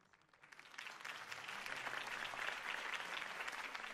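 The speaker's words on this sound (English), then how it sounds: "Mr. Wayne, my campaign's largest backer, could have heard that applause" A crowd's applause for a campaign speech in a Batman video game swells from a few claps into sustained dense clapping, steady and moderately distant, with no talk over it.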